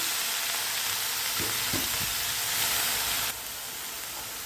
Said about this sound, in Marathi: मिरची चांगली परतून घेतली की कोबी घालायचा आणि कोबी आपल्यावरच शिजवायचा